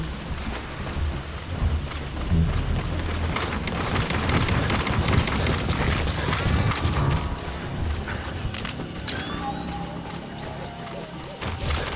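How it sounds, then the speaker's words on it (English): Steady rain and rolling thunder from the weather system in the video game Metal Gear Solid V: The Phantom Pain, a dense continuous downpour with low rumbles and occasional sharp cracks, heard alone without talk. "Caution, rain approaching."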